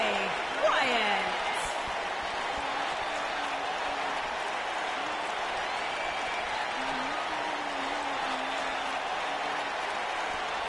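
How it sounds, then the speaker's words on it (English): Arena crowd in a WWE video game producing a steady, continuous roar of cheering and applause at a distance, with a commentator talking over it. "Listen to this crowd, guys. They're fired up for this one."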